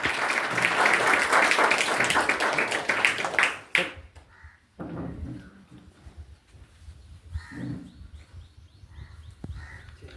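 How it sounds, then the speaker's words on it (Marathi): Audience at a Marathi felicitation event in India claps loudly for a guest being garlanded; dense applause for the first four seconds, then it stops abruptly and quieter talk and murmur follow. "जोरात टाळ्या झाल्या पाहिजे."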